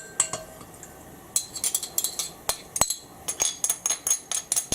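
Ginger being stirred in a pan for a sesame ginger beef noodle stir fry, a run of sharp metallic clinks and scrapes from a utensil against the pan, irregular at first, then quicker and rhythmic.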